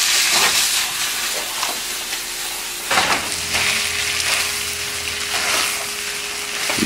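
Cream sauce stirred into linguine pasta for a creamy Cajun chicken alfredo, with a steady loud sizzle from the hot pan and a few sharp scraping stirs of a utensil, heard close.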